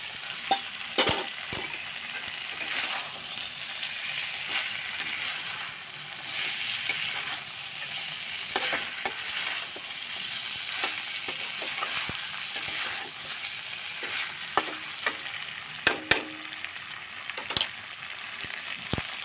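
Potatoes sizzle steadily in hot oil in a pan while a utensil scrapes and stirs them, giving intermittent knocks and scrapes over the constant frying hiss, close and without talk.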